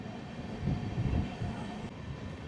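Seshadri Express with LHB coaches at Ongole station gives a low rumbling rail roar that swells in the middle and then settles into a steady hum.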